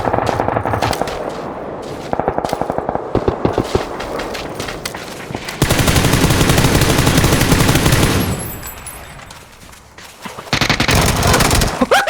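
Automatic rifle fire in the video game PUBG, loud rapid bursts in several volleys with short gaps between them, close and dominant, with only brief quiet stretches.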